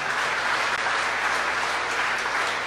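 A church congregation at a family worship service gives a dense, continuous round of applause. Many hands clap evenly throughout, fairly loud, with no pauses and no clear talk.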